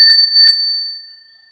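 A meditation bell named Leo Bell strikes twice about half a second apart, each strike ringing with two steady, pure tones that hang on and slowly fade over more than a second.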